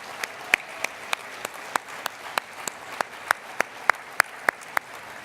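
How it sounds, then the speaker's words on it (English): At a hospitality association board installation ceremony, sharp isolated claps ring out at a steady, evenly spaced rhythm, about fourteen in a row, over a quiet room background. "let's give a round of applause to all of our global past presidents"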